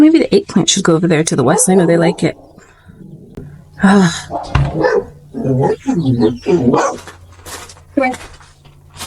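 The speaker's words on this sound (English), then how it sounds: "that's the neighbor's dog" A neighbor's dog, left outside, barks repeatedly in short sharp bursts nearby while a person talks about planting eggplant in a backyard garden.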